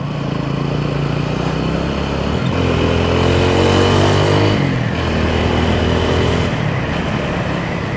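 A motorbike and a car drive past on a road in Batticaloa, a loud, continuous engine roar that rises and falls as they pass close by, with no talking.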